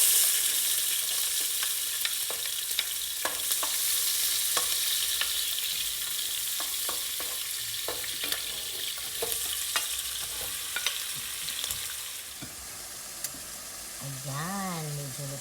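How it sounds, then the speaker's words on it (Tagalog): White onion sautéing in a pan for lasagna, a constant hissing sizzle broken by frequent stirring scrapes and clicks, close up, with a brief faint voice near the end. "white onion. So we have to saute this one first."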